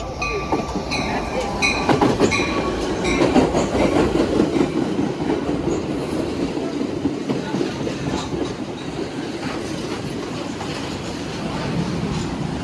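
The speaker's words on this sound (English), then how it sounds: "BNSF train number 1260 to Chicago Union Station is now arriving." BNSF commuter train pulling into Downers Grove station, a loud, steady rumble of rail cars with rhythmic clickety-clack of wheels over joints and faint squeals, continuous and close throughout.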